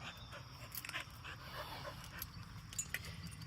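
A puppy pants rapidly and steadily up close, broken by soft whimpers and a few faint yips, fairly quiet with almost no talk.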